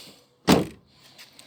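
Mazda car's central locking actuator clunks once, a short sharp thunk close by with a faint trailing rattle, no voices.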